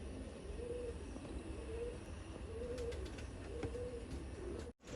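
A red, jaggery-coloured racing pigeon coos in soft, repeated rolling calls at an even rhythm, fairly close against faint background noise. The recording cuts out abruptly near the end.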